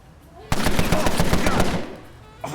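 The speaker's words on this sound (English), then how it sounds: "Okay, submachine gun all the way." Submachine gun fire in the gangster management game Empire of Sin: one sustained rapid burst of shots lasting over a second, loud and close, ending abruptly with a brief click afterward.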